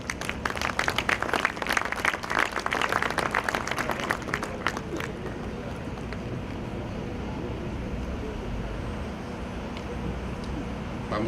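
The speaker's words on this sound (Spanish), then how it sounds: "Lo recibimos con un fuerte aplauso." Audience applause at a business panel event in Mexico, a burst of many hands clapping for about five seconds that then stops, leaving a steady low room hum.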